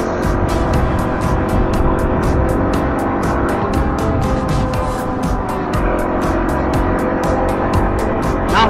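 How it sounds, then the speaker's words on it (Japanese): Car driving along a rural country road in Nara, Japan, a steady loud engine and tyre rumble from inside or close by, continuous throughout with a regular ticking pulse over it and no talk. "奈良の田舎道を走っております"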